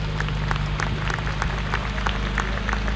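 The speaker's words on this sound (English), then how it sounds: "please put your hands together, give a big round of applause to all our volunteers." Steady applause from an outdoor audience at a Jaguar Enthusiasts Club show celebrating 100 years of Jaguar cars, thanking the event's volunteers; continuous, even clapping over a low rumbling background hum for the full stretch.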